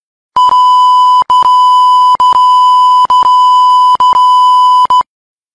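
A steady, loud pure-tone bleep sounds repeatedly, broken by short gaps and clicks, roughly once a second, with no voices.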